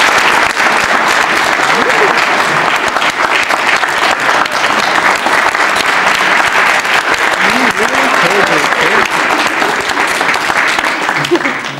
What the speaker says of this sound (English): we give him an applause